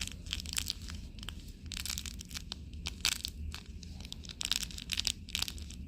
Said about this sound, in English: It makes a little crispy noise when you do it